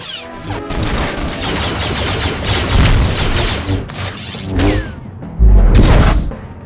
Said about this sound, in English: bounty hunters rocketing, with jetpacks, firing missiles down on their opponents